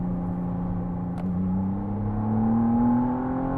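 A 2022 McLaren Artura in sport mode pulls hard after dropping a few gears, its engine note climbing steadily in pitch as it accelerates, loud and close from inside the cabin, with no talking.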